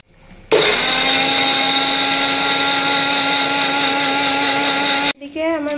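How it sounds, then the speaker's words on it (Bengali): A kitchen blender grinds three green chillies into a paste, starting abruptly with a loud, steady motor whine that holds for about four and a half seconds before cutting off into a winding-down whir. "এবার এটাকে পেস্ট করে নিব।"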